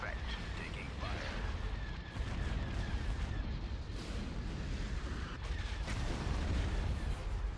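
Starship guns and turbolasers firing in a Star Wars space strategy game, with Star Destroyers and cruisers in battle: a dense, rumbling barrage of repeated booms and blasts that swells and falls, with faint voices mixed underneath.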